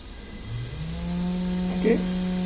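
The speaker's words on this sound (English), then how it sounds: "This is water spraying." A water spraying mechanism on a Bluetooth-controlled agriculture robot switches on, its small motor rising into a steady, close, buzzing whine that holds for the rest of the moment.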